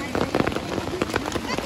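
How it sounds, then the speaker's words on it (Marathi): Heavy rain pouring down on a market, a dense, loud, continuous patter of drops on surfaces close by, with a voice talking over it. "पाऊस का हटत नाही, मोक्कार जोरात यायला लागलाय."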